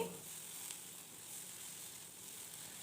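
Ginger garlic paste fries in a pan with a faint, even, soft sizzle that holds steady for a few seconds, quiet and close with no talking.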